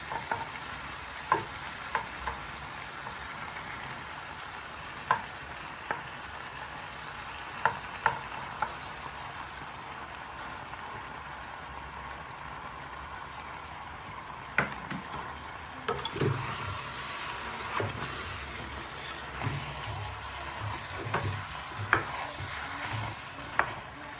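Spinach is added to efo riro, a Nigerian spinach stew cooked with lamb, and stirred in a pot: a low simmering sizzle with repeated sharp spoon clinks and scrapes, close and quiet, no voices.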